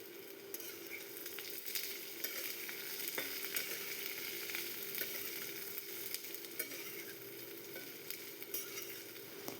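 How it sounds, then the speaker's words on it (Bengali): Sliced ridge gourd fries in mustard oil in a wok with whole cumin, dry red chilli and bay leaf, giving a continuous soft sizzle and crackle with occasional stirring scrapes, fairly faint and steady throughout. "ঝিঙেগুলো খুবই ভালোভাবে ভেজে নেব।"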